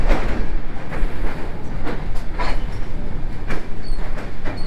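Steady rumble and rattle of a passenger train running toward Kanpur Central, heard from inside a carriage, with continuous wheel noise and a few brief louder clanks and squeals throughout.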